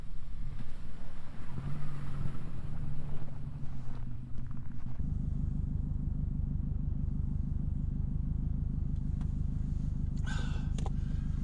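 A Subaru's engine drones steadily while the car drifts on ice in first and second gear, a loud, continuous throttle-balanced rumble that holds throughout, with no talk.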